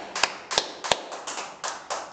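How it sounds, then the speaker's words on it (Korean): A church congregation at a Korean Sunday service claps in unison, sharp, evenly spaced claps falling in a steady rhythm, clear and fairly close, with no talk over them. "좋으신 주님 앞에 박수로 영광 돌리겠습니다."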